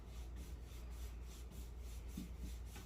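A brush lightly drags Chalk Paint wax across a wooden surface, giving a soft, steady rubbing rasp that stays close and continuous for a few seconds with no talking.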